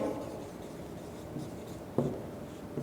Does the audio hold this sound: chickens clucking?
no